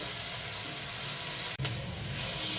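Spices with salt and turmeric frying in a hot pan for chilli paneer give a steady, close, loud sizzle, with a single brief clatter partway through.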